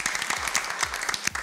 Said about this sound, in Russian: Давайте аплодировать друг другу.